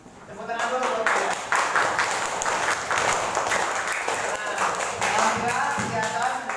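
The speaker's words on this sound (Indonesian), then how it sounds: "Tepuk tangan dulu buat kalian." Students in a classroom lesson applaud steadily at close range, a dense wash of hand claps lasting several seconds, with voices talking over it.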